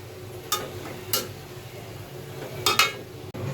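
A metal lid set onto a cooking pot of simmering prawn and taro curry, giving a few sharp clinks and clatters close by over a low background hiss, with a final knock near the end.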